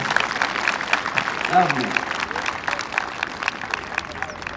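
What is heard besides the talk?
applause from school audience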